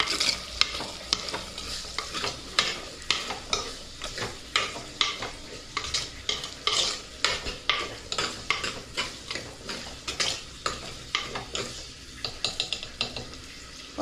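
Onion, garlic and curry leaves sauté in hot oil with a steady sizzle, while a spoon stirs and scrapes the pan in repeated rhythmic strokes throughout, close and continuous.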